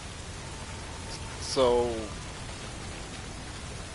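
Rain weather effect in a Musou action game, a steady hiss of falling rain running the whole time beneath a brief spoken word and a short tonal game sound.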